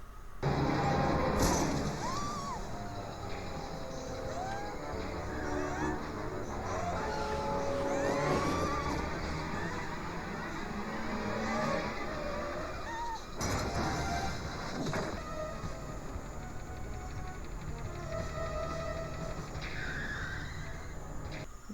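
A reckless car chase from The Terminator (1984), with a dense, loud roar of engines, crashes and rumbling that runs continuously, with a few sharper impacts and squeals partway through.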